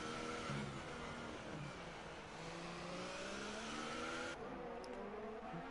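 Formula-style race cars lapping the Singapore street circuit in an F1 video game, engines droning and shifting pitch continuously as cars close up and overtake, loud and steady throughout with no talking.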